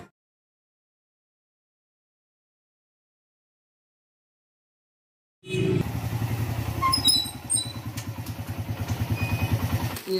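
Loaded motorcycle with goods strapped on top, engine starting up after a long silence and then running with a steady, throbbing putter and some rattling, close by.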